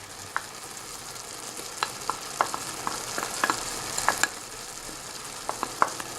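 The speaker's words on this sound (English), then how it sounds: "So let's just stir those in. And let's put our garlic in at this point too." Spinach, tomatoes and garlic sizzle softly in a pan while a spoon stirs them, tapping and clicking against the pan in scattered bursts over a low, continuous frying hiss.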